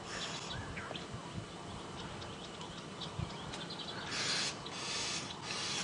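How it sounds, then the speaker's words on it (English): Excited, chattering alarm calls of Cape glossy starlings overlap throughout against a steady noisy background, with louder harsh bursts of calling toward the end, on a sunrise safari drive. "So the starlings are panicking quite a bit, the Cape Glossy starlings."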